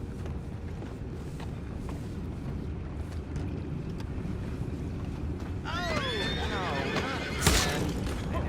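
A horse whinnies in Red Dead Redemption 2 with a rising and falling call over steady wind and rumbling background noise, near the end of the stretch.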